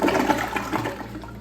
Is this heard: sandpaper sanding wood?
no